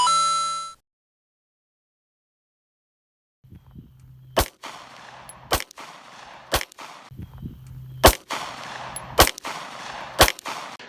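Gunshots captured at reduced level, a series of about eight sharp, clipped cracks spaced roughly half a second to a second apart, thin and snapping rather than booming, over a low hum, after a brief tone at the start.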